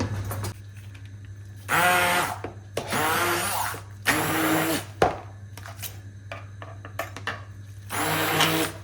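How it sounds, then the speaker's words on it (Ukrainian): A blender whirs in several short loud bursts with pauses between, over a steady low hum, mixing dough for lazy dumplings. "Хоча можна блендером трішки підбити, зараз спробую."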